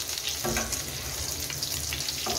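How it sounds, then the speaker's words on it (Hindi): Beef and potato kebabs coated in egg frying in a pan, giving a steady, close crackling sizzle with a few brief scraping stirs, with no talking. "इसको फ्राई करना है कबाब बना के"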